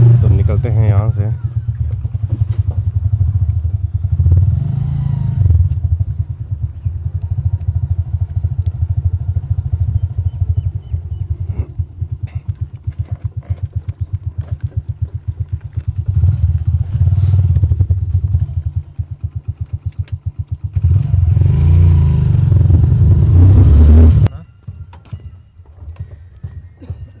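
A motorcycle rides off after a cold start, its engine giving a loud, steady low drone with rev swells and a louder surge near the end before it drops away. Wind buffets the microphone throughout.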